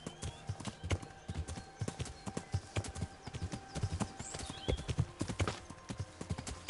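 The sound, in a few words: horse hooves clip-clop in Kingdom Come Deliverance video game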